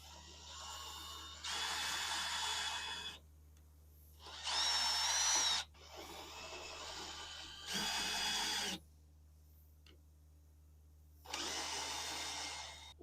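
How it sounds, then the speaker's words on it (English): A power drill bores through wood of a greenhouse roof support near the edge, in four loud whining bursts of a second or two each separated by pauses, with a steady low hum underneath throughout. "Let me drill it all the way"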